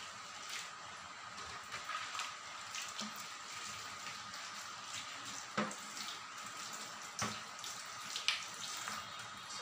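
Tap water runs steadily into a sink while shrimp are rinsed, a faint continuous splash broken by occasional small knocks and clatters.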